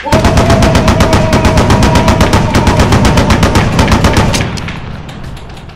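A police gunfire sound effect plays as a loud, close burst of rapid automatic shots firing in an unbroken rattle for about four seconds, then fading into a lingering echo, with no voices.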